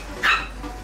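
A small dog gives one short, sharp bark, close and fairly loud, standing alone against a quiet room background.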